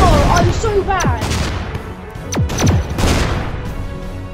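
Shell Shock Live artillery game: a grenade shot whistles and explodes in a loud burst of booms and crashes, with descending whizzing projectile tones, several impacts in quick succession.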